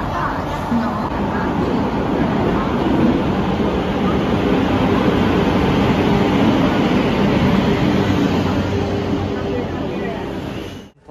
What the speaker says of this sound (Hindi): ये खड़ी है मेरी ट्रेन और हम पहुंच चुके हैं नागपुर जंक्शन।